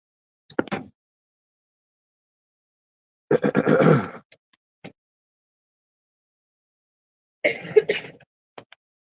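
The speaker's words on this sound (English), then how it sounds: "I heard her cough" A girl outdoors by a swimming pool gives three separate coughs spread over several seconds, the middle one longest and fullest, each short and fairly close, with quiet between them.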